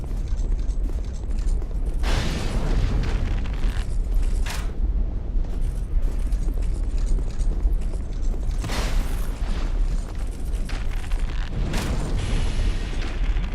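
Fire burning in the video game Dark Souls 2, a loud, steady roaring crackle that fills the whole span, with heavier flaring bursts swelling up now and then.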